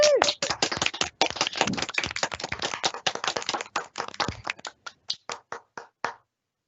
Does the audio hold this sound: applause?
yes